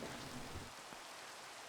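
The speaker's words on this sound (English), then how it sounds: "It is pouring right now." Steady Minecraft rain pours in a video game during a tornado chase, a soft continuous wash of rainfall heard alone without talking.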